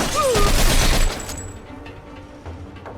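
Gunfire from the Mafia II crime video game, a loud, dense volley of rapid shots lasting about a second before cutting to quieter background ambience.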